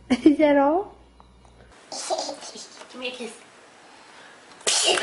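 A small child sneezes once, a short sharp burst near the start, followed by quiet gaps and brief adult speech.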